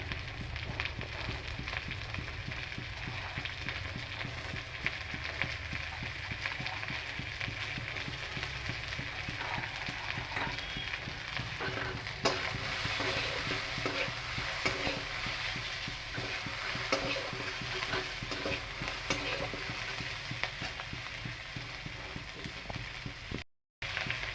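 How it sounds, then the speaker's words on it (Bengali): Chopped onions and green chillies sizzle steadily in hot oil in a pan while a spatula scrapes and stirs them in a repeated rhythm, close and continuous, with no talking. "পেঁয়াজ লঙ্কাগুলো ভাজা ভাজা হয়ে গেছে"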